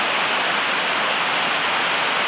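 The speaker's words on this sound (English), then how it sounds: "we got a little bit coming over the top of the spillway" Water flowing over the top of a river spillway makes a steady, loud, broadband rush that stays close and unbroken from start to finish.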